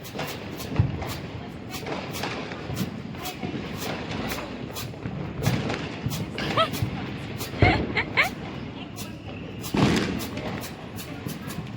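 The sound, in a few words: firecrackers bursting during Diwali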